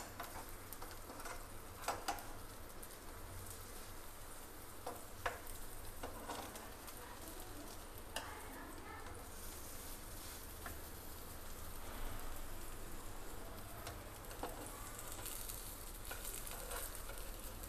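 Aloo tikki patties fry in oil in a pan with a steady soft sizzle and crackle throughout, faint and even, with occasional small pops and no talk.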